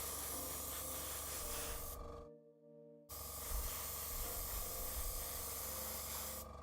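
An aerosol spray can hisses steadily while spray painting a Warhammer 40k miniature from several angles, with a brief pause mid-way before the close, continuous spray resumes.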